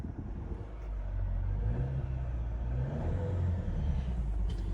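An RV engine revving in neutral, a deep rumbling idle that swells into a sustained louder rev and holds there, close by with no talk.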